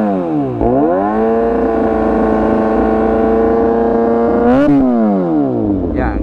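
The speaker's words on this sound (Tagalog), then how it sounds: "Pag habang tumataas yung RPM, lalong nag-iingay." A motorcycle with a stock SC exhaust revs hard toward 7,000–8,000 RPM, a loud, close, steady high-pitched drone with a dip and recovery at the start and another blip near the end.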